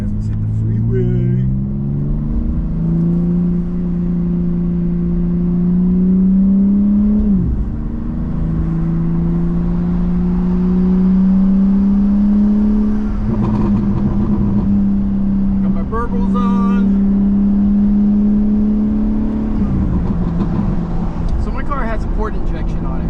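A 2025 BMW M4 Competition LCI pulls onto a freeway, its engine droning steadily and rising through a few gear changes, loud and close inside the cabin with continuous road and wind noise.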